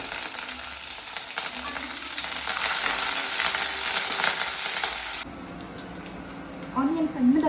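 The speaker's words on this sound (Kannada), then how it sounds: "ಹಾಗೆ ಇದಕ್ಕೆ ಕರಿಬೇವು ಕೂಡ ಆಡ್ ಮಾಡ್ಕೊಳ್ತಾ ಇದ್ದೀನಿ." Green chillies, dry chillies and curry leaves sizzle hard in hot oil for a tadka, a loud steady crackle that drops off suddenly to quieter stirring and a brief splash near the end.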